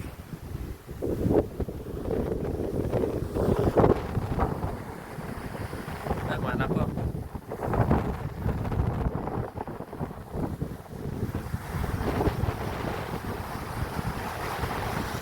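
Strong wind and surf roar steadily along the seashore at Caba Beach in La Union, Philippines, during high tide, a dense rumbling wash with gusts throughout, while someone speaks briefly over it.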